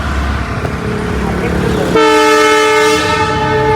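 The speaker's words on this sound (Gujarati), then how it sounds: "ટ્રેન નીકળશે અહીંથી." A train passes nearby with continuous rolling rumble, then its horn blows loud and sustained for the second half, a bright, steady multi-tone blast over the clatter, with some voice in the background.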